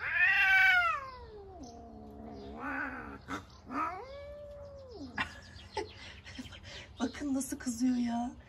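Two male cats growl and yowl at each other in long, wavering, rising and falling caterwauls, with hissing bursts mixed in and a person speaking nearby.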